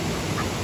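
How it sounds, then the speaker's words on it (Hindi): A duck gives a short quack by a riverside, a single brief call heard close over a steady background of outdoor noise. "यहाँ पर देख सकते हैं आप लोग बहुत बतख भी हैं"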